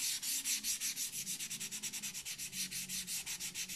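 A plastic 1/35 Trumpeter Chinook scale model is sanded by hand, a quick run of about twenty close, even rasping strokes in a steady back-and-forth rhythm.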